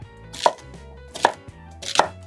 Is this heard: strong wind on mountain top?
no